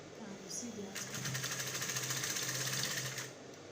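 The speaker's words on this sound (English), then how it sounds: "So as I'm sewing now, I'll be stretching it." A sewing machine runs steadily while stretched elastic is stitched onto a sleeve, its fast needle chatter rising, holding for a few seconds, then stopping.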